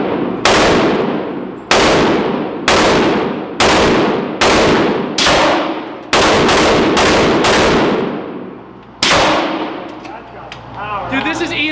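A heavy machine gun fired on a real range, loud booming shots in a regular series of about a dozen, each with a ringing decay, with a voice briefly heard at the end.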